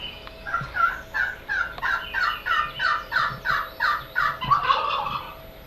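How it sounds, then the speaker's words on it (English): A wild turkey gobbler calls at dawn in the Ozark mountains of Missouri with a long rapid rolling gobble of about a dozen pulses, moderately distant and clear, followed by a softer trailing note. "That's a wild turkey gobbler."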